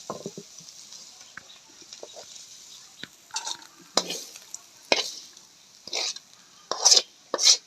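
Fried vegetable stalks (data bhaji) scraped and spooned from a pan into a bowl, heard as intermittent metallic scrapes and clinks of a utensil against cookware, close and fairly quiet.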